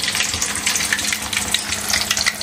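Food fries in a pan with a dense, bright, crackling sizzle that stays loud and busy throughout, bubbling like hot oil; no talking is heard.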